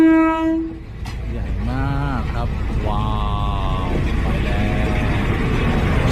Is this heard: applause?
no